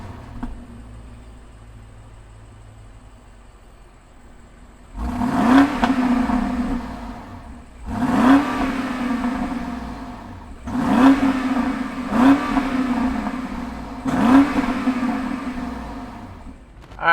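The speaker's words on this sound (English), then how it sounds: "let's fire up this German beast and hear what it sounds like." A 2020 BMW X5 M50i V8 starts and is revved repeatedly in short bursts, each roar rising then falling back to a steady idle, heard close with no talking.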